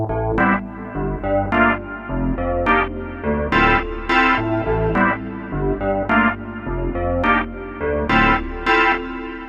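A Korg opsix SE FM synthesizer plays a looping preset pattern of bright, plucky tones with a gritty, metallic edge and a steady rhythmic pulse, loud and up front.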